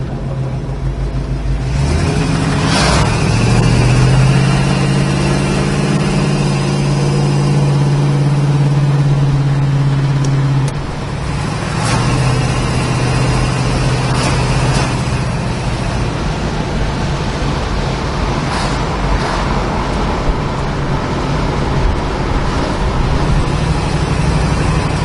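A 1963 Chevrolet Nova drives steadily with a continuous low engine rumble, rising as it accelerates and settling through firm gear shifts, with faint road noise and no talking.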